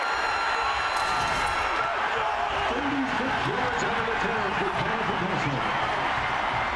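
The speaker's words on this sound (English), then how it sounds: "this crowd roaring now" A college football stadium crowd roars during an Oklahoma versus Oklahoma State game, a dense, steady wash of noise that stays loud throughout while a commentator talks over it.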